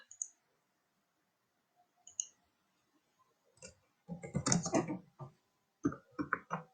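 Keys on a computer keyboard are tapped in short, quiet bursts of clicks separated by near-silent gaps, close by and with no talking.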